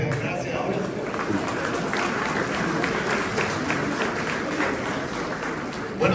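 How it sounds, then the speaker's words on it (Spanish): Warm applause from a conference audience at an education event in Chile, a thick, sustained wash of clapping that carries steadily from start to finish, with voices faintly mixed in. "Un cariñoso y recepcionado aplauso, fraternal aplauso"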